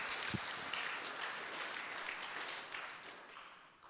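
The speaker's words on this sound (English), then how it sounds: "So let's give the deacons a round of applause for their work." A church congregation at its annual meeting applauds the deacons with a steady round of clapping that gradually fades toward the end.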